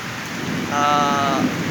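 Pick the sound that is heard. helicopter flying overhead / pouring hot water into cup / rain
rain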